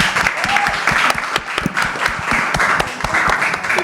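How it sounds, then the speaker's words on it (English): A college event audience claps for a panel, loud and close, with distinct individual handclaps in an uneven rhythm, some voices mixed in. "let's give our panel a big round of applause"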